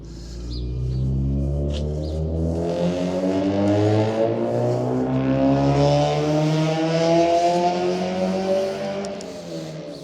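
A Honda car engine revs loudly and steadily, its pitch climbing and holding high for several seconds before easing off slightly, close and sustained.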